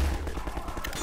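Rapid gunfire in Half-Life 2, a quick burst of shots in a fast, uneven rhythm, loud and close, with no talking over it.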